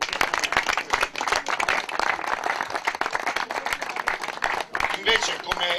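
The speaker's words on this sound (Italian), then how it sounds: "farei un grande applauso" An audience at a bocce event claps in sustained, dense applause for nearly six seconds, with voices talking over the clapping.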